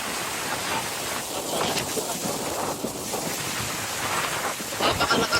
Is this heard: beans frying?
no